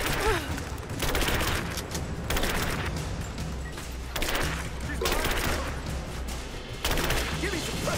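Sustained suppressing gunfire from Rise of the Tomb Raider, dense bursts of rapid shots and crashing impacts rolling on continuously at loud, close range with only brief lulls.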